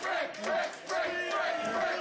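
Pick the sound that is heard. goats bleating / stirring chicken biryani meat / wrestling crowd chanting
wrestling crowd chanting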